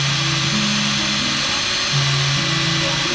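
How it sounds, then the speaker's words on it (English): A worn Ryobi power drill, at least 25 years old, whirs continuously at close range, its motor pitch wavering and rising slightly as it runs. "This drill really sucks. Yeah. This drill is older than me."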